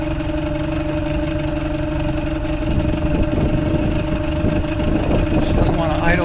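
The motor of a small fishing boat idles roughly at low speed on shallow water, a loud, continuous low rumble with a steady hum throughout and no talk.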